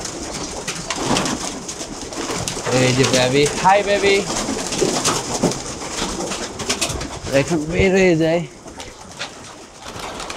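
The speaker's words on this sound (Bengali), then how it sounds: "এখানেও আছে ঘরে, এই যে আসতেছে যাইতেছে, যে বিভিন্ন ভ্যারাইটির কবুতর আছে।" Pigeons of various varieties in a loft on a farm in Uganda give low, bubbling coos in bursts while a person talks nearby, the coos rising and falling between the words.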